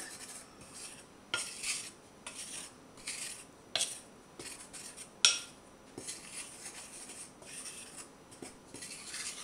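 A spoon scrapes and clinks against a bowl while mixing cinnamon and a pinch of salt for vegan waffle batter: quiet, close, irregular scraping strokes with occasional sharper taps on the bowl's side.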